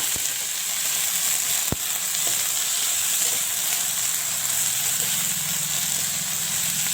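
Chopped vegetables with garlic, onion and chili fry in a pan with a steady, close sizzle, broken by a sharp click near the start and a couple of faint stirring taps.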